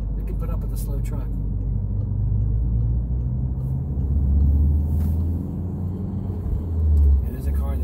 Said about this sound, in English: there's a car there, so I'm gonna wait